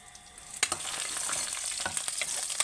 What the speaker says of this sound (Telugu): ఉల్లిగడ్డ ఇవన్నీ ఇట్లా వేగాయి కదా